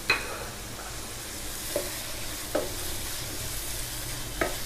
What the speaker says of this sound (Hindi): हल्दी को मैं प्याज में भून लूं फिर बाकी मैं मसाले